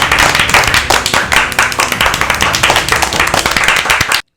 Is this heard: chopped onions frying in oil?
no